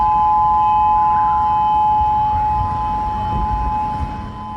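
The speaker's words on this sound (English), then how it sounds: "And that's the sound of the emergency sirens in Honolulu going off at this hour." Emergency tsunami warning sirens wail across Honolulu as a loud, steady sustained tone with a low rumbling background, continuous and unbroken.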